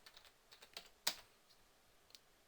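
Soft, quick keystrokes of typing on a computer keyboard, with one sharper key press in the middle, close and quiet.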